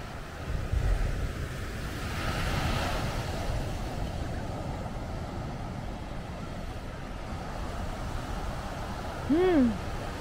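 Small ocean waves wash steadily onto a beach on Oahu, Hawaii, with a continuous rushing surf and wind across the microphone. A brief rising tonal chirp cuts in near the end.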